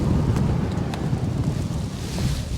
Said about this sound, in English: There's that wind I was talking about.